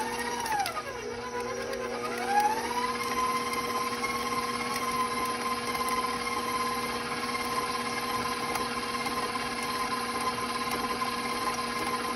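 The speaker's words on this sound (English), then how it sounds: "putting my butter in the mixer and letting it mix until it loosens" Electric stand mixer creaming butter for M&M cookies, a steady motor whine that dips and recovers in pitch at the start, then holds an even hum throughout, moderately loud and without speech.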